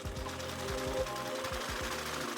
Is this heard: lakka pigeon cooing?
no